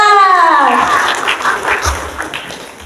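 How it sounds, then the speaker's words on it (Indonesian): Audience applause for the guest speakers at a documentary film discussion, a broad wash of clapping rising after a voice fades at the start, then continuing steadily and gradually thinning out. "Oke, tepuk tangan dulu dong untuk para narasumber kita."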